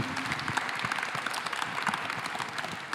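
Audience members at a conference session applaud a speaker, a moderate, fairly close patter of many hands clapping that holds steady for a few seconds.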